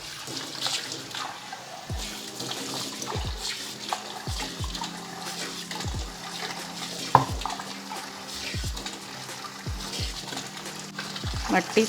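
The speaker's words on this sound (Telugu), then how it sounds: "ముందైతే వాటర్ కింద పెట్టేస్తాను, బాగా వాటర్తో దీన్ని కడిగేసుకుందాం" A new stone mortar is rinsed under a running tap, with a steady stream of water splashing over the stone and repeated soft knocks as it is handled and scrubbed, close and moderately loud.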